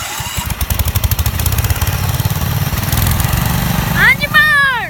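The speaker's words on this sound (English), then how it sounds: "Gentlemen, start your engines!" A 1972 John Deere 110 garden tractor and a Ford garden tractor start and run loud and close, their engines chugging in a rapid pulsing rhythm before a whining sweep near the end.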